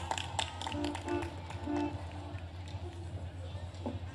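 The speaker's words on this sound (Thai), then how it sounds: "ขอเสียงปรบมือให้กับท่านกำนันดังๆสักหนึ่งครั้งนะครับผม" Audience clapping for a village headman at an evening Phetchaburi ramwong dance event, a dense patter of hand claps with crowd murmur under music and a voice over the sound system.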